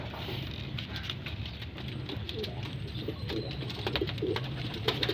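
A racing pigeon back at its loft coos softly in low repeated phrases against quiet outdoor ambience, with light patter and small clicks growing toward the end.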